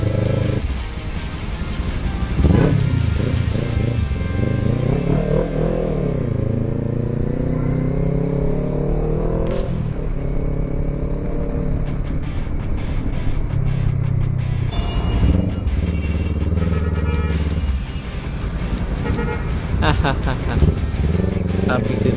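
Motorcycle and car traffic rumbles along a road around a Kawasaki Z400 rider, with steady engine drone and rising revs under continuous talking.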